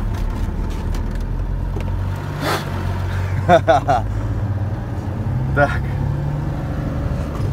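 A Mercedes 814 truck with a sleeper cab pulls away, its diesel engine droning low and close as it accelerates, with a voice speaking briefly over it.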